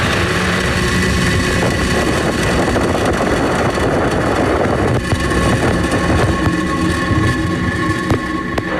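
A SpaceX Falcon 9 launching on the Korea 425 mission: a loud, continuous, broadband rocket-engine roar that holds steady throughout with no speech.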